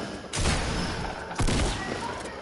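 Pump shotgun and tactical shotgun firing in the Fortnite video game: two loud, heavy blasts about a second apart, each trailing off into a sustained rumbling decay.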